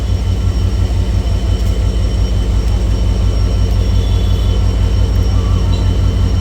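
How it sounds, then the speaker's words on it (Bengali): The Barendra Express intercity train pulls into Panchbibi railway station an hour late, heard as a loud, steady rumble and rhythmic clatter of carriages close by, continuous throughout. "ট্রেনটি এক ঘন্টা বিলম্বে পাঁচবিবি রেলওয়ে স্টেশনে প্রবেশ করলো"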